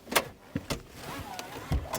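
The rear seat handle of an 8th-generation Honda Civic is pulled inside the trunk, giving a few close, sharp clicks and clunks with short latch rattles, no talk.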